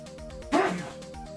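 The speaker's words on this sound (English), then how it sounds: "I need to sneeze. I gotta sneeze." A single quick sneeze, muffled and slightly distant as if turned away from the microphone, bursts out briefly amid otherwise quiet room sound.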